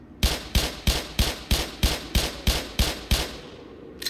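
Ten loud weapon shots from the video game Black Mesa fire in a steady rhythm, each punchy report ringing briefly before the next, ending with a short quiet tail.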